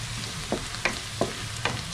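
Red onion and garlic fry in hot cooking oil for pork igado, giving a steady close sizzle broken by a few sharp utensil scrapes and clicks as the pan is stirred.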